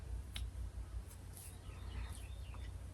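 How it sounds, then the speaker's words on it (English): Faint birdsong drifts in from outdoors, with scattered high chirps and short tweets over a low steady background hum, and no one speaking. "Do you hear the birds?"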